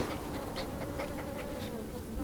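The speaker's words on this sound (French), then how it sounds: "Vous les entendez, petites abeilles?" Bees buzz softly in the farming video game Farm Together, a steady insect drone running under gentle background game ambience with no talking.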